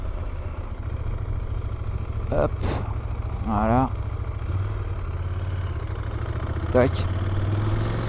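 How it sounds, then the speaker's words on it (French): A CFMoto 1000 MTX big twin motorcycle idles with a low, steady rumble throughout, while someone talks briefly over it in a few short bursts. "Le moteur, il est hyper souple, hein, franchement, pour un gros twin"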